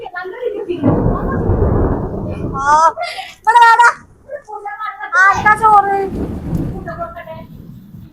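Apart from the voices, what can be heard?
heavy thunder and rain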